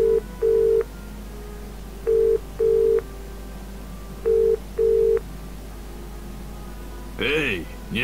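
Phone ringing in the adventure game Broken Sword 4, a repeating ringback tone in pairs of short buzzing pulses over a low steady hum, then a brief electronic warble as the line connects.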